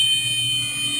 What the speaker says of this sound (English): Suddenly, the alarm sounds.